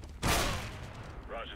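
A gunshot fired by a player in the video game Overwatch: one sharp, loud broadband blast with a short tail, followed by a busy game mix with faint speech-like sounds.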